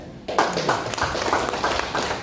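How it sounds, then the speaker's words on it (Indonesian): An audience at a labor union discussion meeting applauds, a burst of clapping that starts suddenly and carries on with an uneven, pulsing rhythm. "Tepuk tangan kita."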